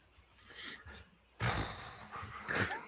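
A seven-month-old puppy pants and snorts close by outdoors on the street, with short breathy huffs and sniffs in uneven bursts and no talking.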